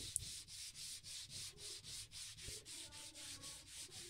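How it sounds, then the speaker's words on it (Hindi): Steady back-and-forth rubbing of 150 grit sandpaper pressed firmly onto a melamine-polished wooden surface during refinishing, about sixteen even strokes in a regular rhythm, close and moderately loud, no voices. "वही डेढ़ सौ नंबर का रेगमल हम फिर से इसके ऊपर प्रयोग करेंगे दबा के लगा देना है इसको"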